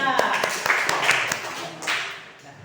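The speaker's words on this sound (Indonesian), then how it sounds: "Ya, tepuk tangan buat kelompok selanjutnya." Short round of clapping from a small group during a class presentation, a few sharp, uneven claps close by that fade quickly.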